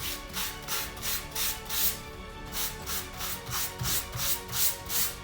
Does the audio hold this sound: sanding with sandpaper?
yes